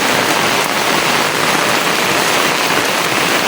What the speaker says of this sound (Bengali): এত পরিমাণ বৃষ্টি হইতেছে, মাত্র আধা ঘন্টা থেকে বৃষ্টি পড়তেছে